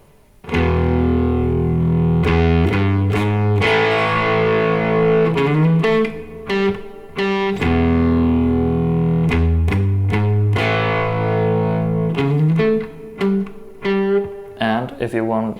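Slow, sustained distorted electric guitar notes ring out one after another, loud and close, each held before the next is picked.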